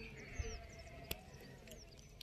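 Sheep injured by a lightning strike at Sakhali in Buldhana bleat faintly and at a distance over a low outdoor background.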